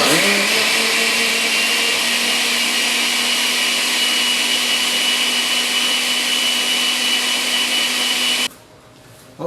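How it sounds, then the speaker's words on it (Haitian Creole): A blender runs continuously at high speed, blending ingredients for a fresco drink. It gives a loud, steady motor whine with no talking and stops abruptly near the end. "On va blender."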